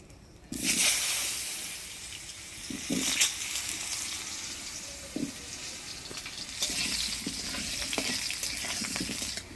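Dried red chillies and whole cumin seeds crackle and sizzle in hot oil for a Bengali village curry, a loud steady fry that bursts in abruptly and holds, with occasional stirring scrapes and pops, and no voices.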